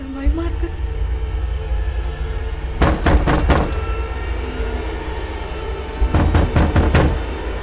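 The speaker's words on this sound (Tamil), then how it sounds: "இப்ப யாரு கதவு தட்டினது?" Knocking on a door in a Tamil horror-comedy scene, two loud clusters of rapid knocks about three seconds apart over a low rumbling background, with a voice heard faintly at the start.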